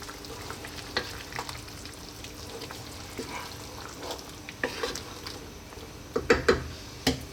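Hand-crushed tomatoes and tomato paste for a Greek lamb stew are stirred in a pot, with a soft bubbling sizzle and scattered spoon scrapes and knocks that grow louder and more frequent toward the end.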